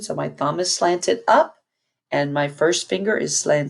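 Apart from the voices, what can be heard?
None of the usual background noises is heard.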